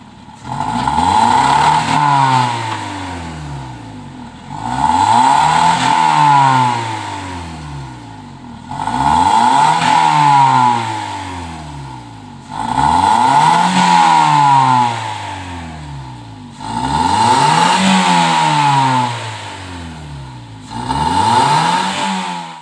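A 2009 Toyota Yaris fitted with a Black Core exhaust revs hard six times in a row, each blip rising and falling in pitch with a raspy exhaust tone, loud and close with short gaps between.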